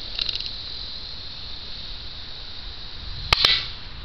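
An airsoft gun fires at a can during a backyard shoot-off: one crisp, sharp snap near the end stands out over a steady high-pitched background whine and low hiss, with no voices.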